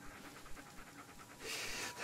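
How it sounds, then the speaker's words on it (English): In the dark woods of Blair Witch, a dog pants close by in quick, rhythmic breaths, then gives a louder rush of breath toward the end. "Oh, dog, you scared the hell out of me."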